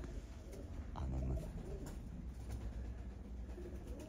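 Pigeons cooing: low soft repeated coos close by over a background rumble, fairly faint, with no talking.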